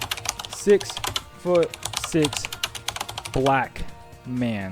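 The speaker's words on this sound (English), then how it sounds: "what am I typing in?" Typing on a computer keyboard while looking up a bodybuilder's average height and weight, with rapid clicking keystrokes running under a man's continuous speech.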